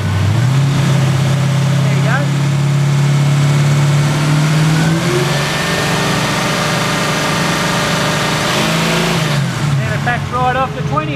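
A 308 V8 engine with MSD programmable ignition revs up from a steady idle, holds a loud, rising drone close by, then drops back and rumbles; someone speaks briefly over it.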